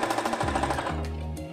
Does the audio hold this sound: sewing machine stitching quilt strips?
yes